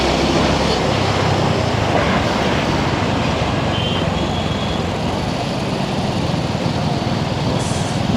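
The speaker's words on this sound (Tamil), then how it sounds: "இந்த மாதிரி டிராஃபிக் சார் கொடுக்குறீங்க." Dense road traffic on a Sunday evening after rain, a constant broad rumble of engines and tyres with no clear gaps, loud and enveloping, with a faint horn-like tone now and then.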